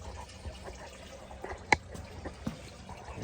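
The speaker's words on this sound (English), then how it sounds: "as we've got the oil draining" Engine oil draining from a 2019 Can-Am F3 Limited three-wheeler, a quiet steady trickle and drip into a pan with a couple of sharper splashes, faint and close.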